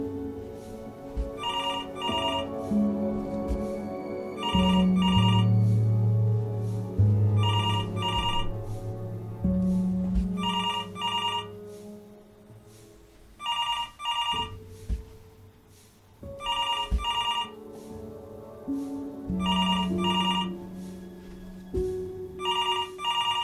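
A telephone rings repeatedly in the narrative game Before Your Eyes, bright double-pulse rings recurring every few seconds over a low sustained musical score, fairly prominent and without speech.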